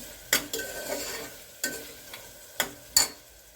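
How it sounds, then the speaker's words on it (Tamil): Tomatoes being sautéed in a pan for Kongu-style lentil rice, a soft ongoing sizzle broken by four or five sharp scraping stirs of a spatula against the pan, close and fairly quiet. "இப்போ கொஞ்சம் நல்லா வதக்கிக்கிடுவோம்"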